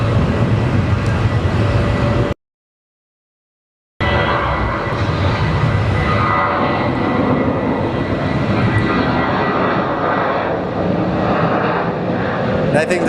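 An airliner, either a Southwest jet or an Embraer, takes off at Phoenix Sky Harbor with a loud, steady jet roar held throughout. The roar breaks off briefly in a short gap, then returns at full strength.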